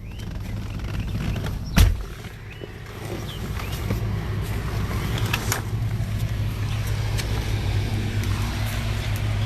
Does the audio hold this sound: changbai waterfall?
no